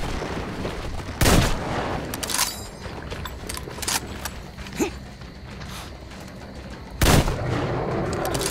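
Sharp gunshots from a firearm in the post-apocalyptic shooter Metro Exodus, two loud reports standing out from a steady background of game noise, with fainter shots and clanks between them.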